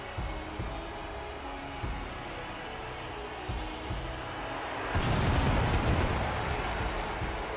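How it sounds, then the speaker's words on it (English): Fireworks boom and crackle in the WWE 2K25 wrestling video game, a series of dull bursts that swell into a louder, denser crackling wash toward the end. "Came back right in time for the fireworks."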